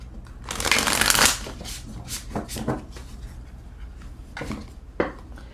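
Tarot cards are shuffled by hand at close range, with a long riffling burst followed by several shorter, softer flutters and taps.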